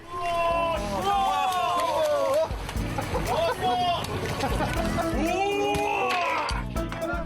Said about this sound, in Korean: 선두에서 환호 소리가 들려옵니다